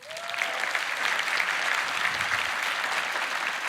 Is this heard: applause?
yes